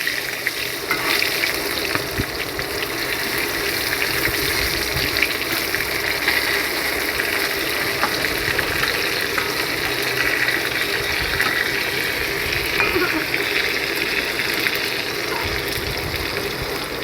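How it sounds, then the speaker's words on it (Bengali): Slices of pointed gourd (potol) fry in oil in a pan, giving a dense, continuous, close sizzle that holds steady at a loud level throughout, with occasional small crackles and scraping as the slices are turned. "পটল ভাজা এক পিঠ হয়ে গেছে, আরেক পিঠ উল্টে দিলাম।"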